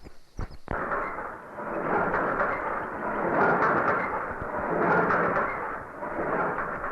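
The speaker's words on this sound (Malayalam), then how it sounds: "എന്തായാലും നമ്മുടെ നാട്ടിൽ ആദ്യമായിട്ട് വരുന്ന ഹെലികോപ്റ്റർ" A sharp thump, then a loud, continuous roaring engine drone that swells and fades slightly, like a helicopter passing close overhead.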